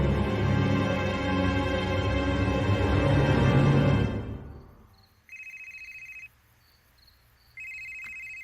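A telephone rings in a quiet room after loud music fades out, with two clear electronic ring bursts separated by a pause.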